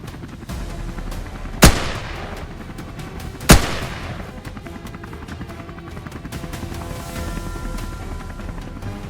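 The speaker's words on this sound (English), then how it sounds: "Watching him handle his rifle, lining up each shot with calculated precision" Two sharp hunting-rifle gunshots crack out about two seconds apart over steady outdoor background noise during a wild boar hunt, each loud and abrupt with a brief decaying tail.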